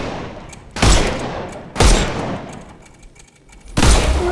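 Three loud bursts of gunfire ring out at roughly one-second intervals, each a sharp broadband blast with a decaying tail, as armour is shot off enemies in the Sherlock Holmes Chapter One video game.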